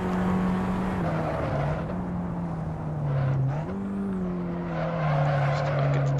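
Abarth 500 Esseesse in Assetto Corsa with its small engine buzzing steadily, pitch dipping and climbing as the car lifts and accelerates through a corner, then shifting up and pulling again, with no voices.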